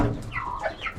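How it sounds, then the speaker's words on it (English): A broody hen gives a few short, close clucks in quick succession, with a low farmyard murmur behind. "Got a broody hen."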